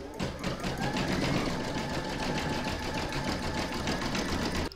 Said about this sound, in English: I'm now going to pop that back into my machine and stitch round number seven, and that's going to do the satin stitching around the petals.